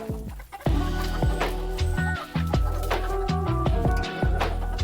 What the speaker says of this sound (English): It's our favorite chicken.